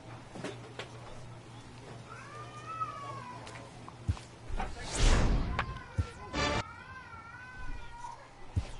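A house cat meows several times, drawn-out and fairly close, amid a noisy room with knocks and a loud rustling burst between the calls.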